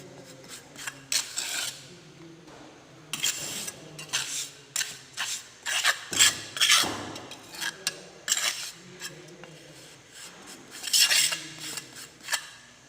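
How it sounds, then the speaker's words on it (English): A leaf trowel scrapes and smooths the top surface of a mould, giving repeated rasping strokes in short bursts, close and fairly loud, with light metallic scraping between them and no talk. "I am finishing the top surface with the help of the leaf trowel"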